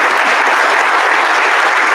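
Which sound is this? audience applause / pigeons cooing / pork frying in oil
audience applause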